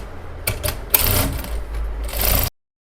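A sewing machine stitches a dart on a child's lehenga in short bursts: a few quick starts, then a sustained close whirring run that ends abruptly.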